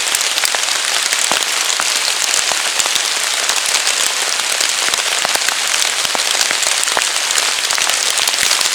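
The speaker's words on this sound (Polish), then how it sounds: "Zobaczymy leje i leje." Heavy rain pours down in a forest, a dense, loud, unbroken hiss with sharp patters and drips landing close by.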